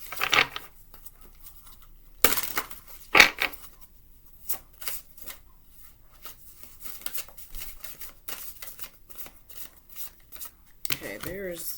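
Tarot cards being handled, shuffled and pulled from a deck: soft shuffling riffles and brisk slaps and flicks of card stock, close and fairly quiet, scattered throughout.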